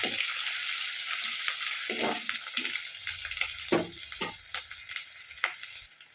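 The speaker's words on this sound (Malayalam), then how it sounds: "ഇത് രണ്ടും ഒന്ന് മൂത്ത് വരക്കാം" Crushed garlic and a large piece of ginger frying in a pan for a Palakkad-style chicken curry with ash gourd, giving a bright continuous sizzle with scattered stirring scrapes and clinks, close up and without speech.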